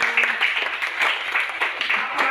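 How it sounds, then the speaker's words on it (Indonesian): Classroom applause for a classmate, a broad steady patter of many small hands clapping together at close range, with faint voices mixed underneath. "tepuk tangan buat temanku"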